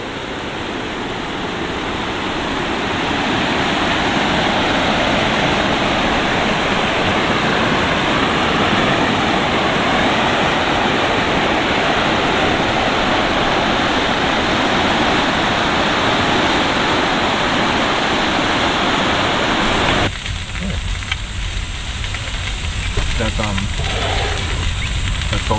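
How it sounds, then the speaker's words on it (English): A large waterfall roars in flood, a loud continuous broadband rush that fills the whole stretch and changes character near the end. "It's a dirty, great big waterfall."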